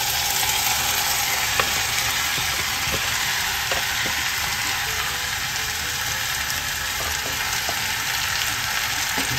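Boneless chicken sizzles and fries steadily in a small pot with garlic, onion and ginger. The hiss is loud and continuous, broken by a few faint clinks of stirring.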